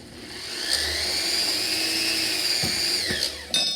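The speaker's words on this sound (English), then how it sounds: "I'm going to start by drilling a little hole just on the inside here" A small drill bores a little hole into a textured metal pendant at a jeweler's bench, giving a steady high whine that runs continuously for several seconds with a brief change in pitch near the end.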